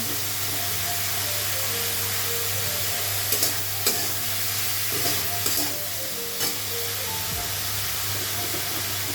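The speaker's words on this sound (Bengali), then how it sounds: "চিংড়ি মাছ দিয়ে দিলাম" Shrimp fry in a pan with a steady, close hissing sizzle. A few soft clinks of stirring rise briefly above it.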